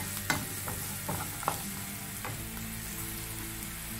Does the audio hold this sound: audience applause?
no